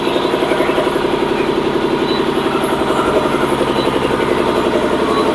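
A generator runs just outside an open hotel balcony in Chandipur, a steady, loud engine drone with an even low throb that stays unchanged from start to finish.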